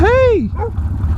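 A dog gives one close, loud, rising-and-falling yelp or bark, followed by a short softer whine, over steady low motorcycle engine rumble.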